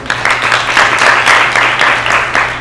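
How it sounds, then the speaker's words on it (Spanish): Applause for a psychologist's talk on art and psychosis, steady and fairly loud with dense clapping across the whole span and no speech over it. "un aplauso para ti"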